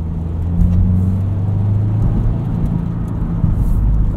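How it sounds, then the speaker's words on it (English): A 2022 Subaru WRX Premium with a 6-speed manual hums with a steady engine rumble from inside the cabin during a heel-toe downshift, a loud low drone with no talk. "So easy to heel toe downshift and rev match."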